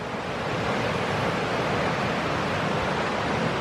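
A river rushes steadily through the woods, a dense even wash of flowing water with no breaks.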